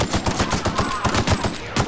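Rapid automatic gunfire from The Outer Worlds, a steady loud string of close shots in even rhythm lasting the whole stretch.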